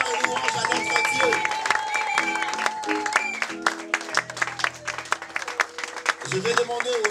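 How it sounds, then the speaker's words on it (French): Guests at a Congolese religious wedding in Dijon clap and cheer in sustained applause, with a voice speaking over it and music-like tones riding along underneath. "J'aimerais que tu acclames avec moi pour rendre gloire et louange à notre Dieu."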